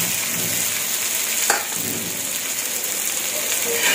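Leftover rice stir-fried with masala and salt in a pan, giving a steady broadband sizzle with scraping stirs throughout and one sharper clatter near the middle.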